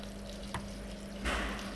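Water poured into a pan of cabbage and chicken mince frying with turmeric, a brief splash and then a louder hiss and sizzle over a steady frying crackle.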